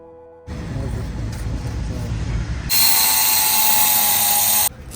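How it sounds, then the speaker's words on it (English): A power tool cuts clinker thermal facade wall panels, starting as a loud buzzing grind and rising into a harsh, high-pitched whine for about two seconds before it cuts off. "We cut the wall panels taking into account the width of the slope from the window profile to the inner part of the facade"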